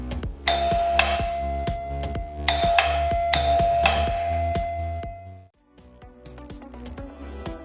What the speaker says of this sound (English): I tested the doorbell switch once more and it worked as expected, activating the traditional doorbell.